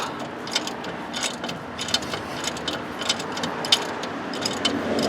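A ratchet works fine-thread bolts out of a Dodge 1500 front wheel hub, giving a long run of quick, close clicking bursts over a steady background hum.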